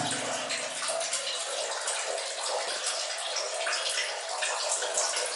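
Water trickles and splashes steadily into a deep stone cistern settling pool, a constant bright rushing sound with no voices.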